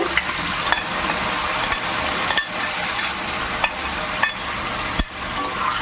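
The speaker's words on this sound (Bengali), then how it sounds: "এবার আমি দিয়ে দেবো ম্যারিনেট করা চিকেনগুলো।" Marinated chicken pieces hit fried onion and tomato in a hot pan, setting off a steady, loud sizzle with periodic scrapes and clacks of a stirring utensil.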